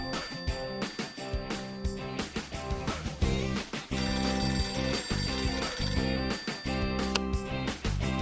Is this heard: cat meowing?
no